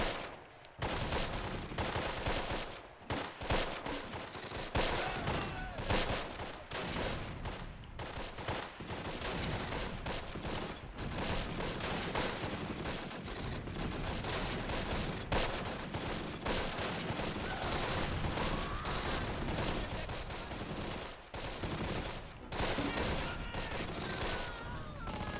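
Sustained machine gun fire and scattered rifle shots in Close Combat, a WWII tactical game battle at Eindhoven, with dense bursts and brief gaps running throughout.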